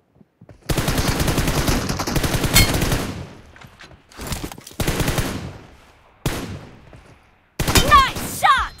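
Bursts of automatic fire from an M416 rifle in a shooter game, loud and close, coming in several long volleys separated by short silences, with brief voices in between.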